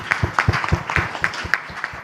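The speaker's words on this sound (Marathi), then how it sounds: "अरुणजींसाठी एकदा जोरदार टाळ्या व्हायला पाहिजे." Scattered applause from an audience at the trailer and music launch of the Marathi film Mangla, with uneven claps in a loose, steady rhythm at moderate volume.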